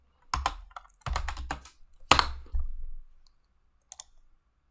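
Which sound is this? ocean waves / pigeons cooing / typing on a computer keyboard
typing on a computer keyboard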